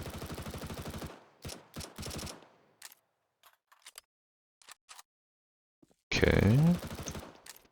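An MP7 submachine gun fires in Counter-Strike 2 as a loud, close burst near the end, after a brief spoken word at the start and a stretch of sparse clicks and quiet.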